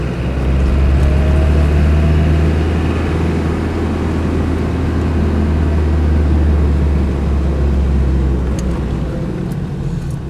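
A Land Rover 110 200Tdi turbo diesel engine drones steadily with a deep low rumble, pulling under load from low revs with constant loudness and no voices.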